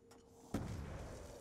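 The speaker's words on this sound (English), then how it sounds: "So I'll try and grenade if I can." A grenade blast in a Call of Duty zombies match gives a single sudden boom and a rumbling tail, moderately loud against quiet game ambience.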